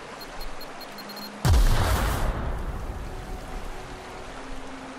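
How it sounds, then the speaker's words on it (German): A grenade launcher fires once in The Outer Worlds, a single loud booming blast followed by a long rumbling, hissing decay that fades over several seconds, with no talk. "Komm, wir geben mir mal den Granatwerfer."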